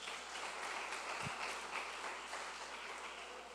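A church congregation applauds during a Portuguese-language sermon, a soft, even wash of clapping that stays faint and distant throughout.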